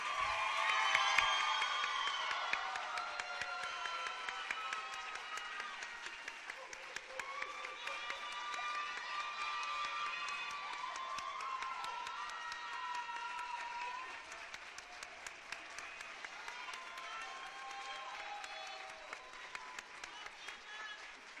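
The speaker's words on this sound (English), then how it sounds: "Please give a round of applause for all our new inductees." Sustained applause from a school audience of parents and teachers greeting new National Junior Honor Society inductees, steady clapping throughout with cheers and excited voices mixed in.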